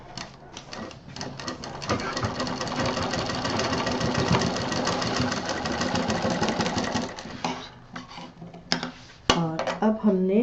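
A sewing machine runs steadily while stitching a sling bag, its rapid, even needle rattle lasting about seven seconds before it stops, followed by a few scattered handling clicks.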